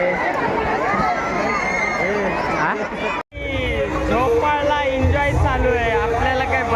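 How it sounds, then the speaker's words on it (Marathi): Dense crowd chatter and hubbub at a Mahashivratri festival, loud and continuous with overlapping voices all around, briefly cutting out for an instant midway. "खूपच गर्दी आहे"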